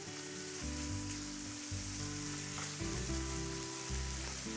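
Food being mixed with sticky sweet chili sauce in a hot pan, a steady, fairly faint sizzle running throughout with soft stirring scrapes, no voices.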